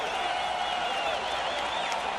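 A large crowd roars steadily at a CFL football game between the BC Lions and the Ottawa Redblacks in Ottawa, a sustained, dense cheer with no breaks across the whole moment.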